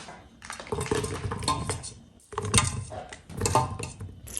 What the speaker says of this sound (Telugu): బెల్లాన్ని మనం ముక్కలు చేస్తాం ఫ్రెండ్స్